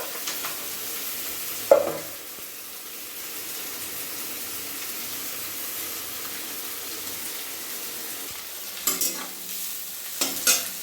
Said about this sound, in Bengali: ভালো করে পেঁয়াজটা কষিয়ে লাল লাল করে ভেজে তারপর টমেটো দেবো আর মাখিয়ে রাখা মাংসটা